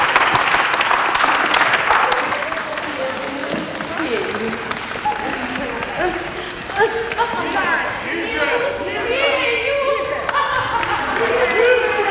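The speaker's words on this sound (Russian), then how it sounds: "Аплодируем" In the Hermitage Theatre a court audience applauds a performance of one of the Tsarina's own plays; loud, close clapping fills the opening seconds, then thins out as voices and scattered sounds of the room take over.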